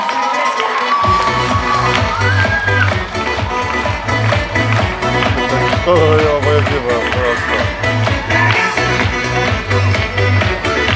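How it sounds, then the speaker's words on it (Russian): Dolphinarium audience at Bolshoy Utrish cheering and clapping loudly, a dense crowd roar over booming rhythmic music, with shouts and whoops rising through the din. "Аплодировать нужно громче!"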